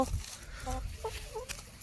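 Chickens cluck in short, close bursts beside a house, a few quick clucks across under two seconds amid faint background noise.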